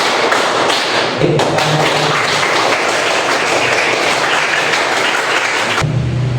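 A classroom of children claps together in a counted pattern, dense sharp hand claps filling the space loudly and continuously, with brief pauses at the start and end of the sequence.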